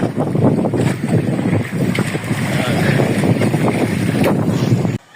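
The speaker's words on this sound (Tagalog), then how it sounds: "Prepare ko yung makina mga master. Papaandar ko na, paanarin ko na." A fishing boat's engine is heard at sea, its low running drone blending with strong wind buffeting the microphone and the wash of water, continuous and loud until it cuts off abruptly at the end.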